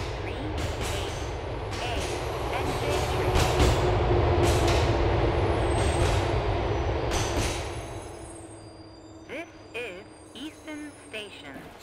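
A Liberty City subway train on the K/E Line in GTA IV rumbles and clatters along steadily, building to a loud roar before easing off into quieter rattles and squeaks as it slows toward a station.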